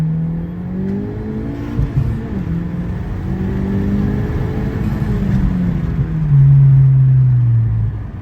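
Honda Civic Type R with an upgraded intercooler accelerating hard in second gear, a loud continuous engine roar rising in pitch as revs climb, heard from inside the car.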